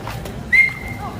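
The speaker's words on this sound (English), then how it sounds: "Why are people whistling?" A single loud, shrill whistle cuts through brief crowd murmur at a Kyoto night market, a short sharp tone lasting under a second.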